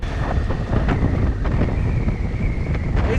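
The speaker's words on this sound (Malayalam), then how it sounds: "ഭയങ്കര കാറ്റും ഭയങ്കര പൊടിയും ഗ്ലാസ് ഉയർത്താൻ പറ്റുന്നില്ല" Loud, continuous dusty wind rushing and buffeting through an open window of a moving vehicle on the NH 66 road-widening stretch, with a faint engine drone underneath and no talking.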